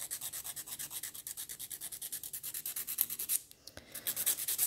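A nail file rasps across a cracked fingernail in quick, steady back-and-forth strokes, close and fairly quiet, with a brief pause before the rhythmic scraping resumes.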